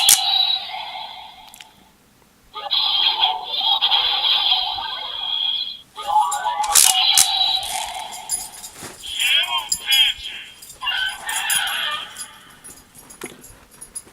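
A Star Bem Gyeron Kaiju capsule candy toy from Ultraman Geed plays its electronic sound effect: bursts of bright, chirpy synthetic roars and bleats that come in several separate sections and fill the whole stretch.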